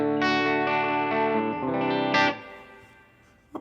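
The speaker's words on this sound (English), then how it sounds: "Dual reverb." Guitar notes played through a dual reverb effect in Native Instruments Guitar Rig 6 step through a short phrase, ending on a strummed chord that fades into a soft reverberant tail before a brief final pluck.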